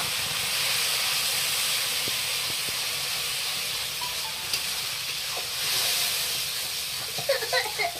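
Ground spice paste hitting hot oil in a pan with dried fish, giving a loud, steady sizzling hiss that holds throughout, with a few faint clinks near the end.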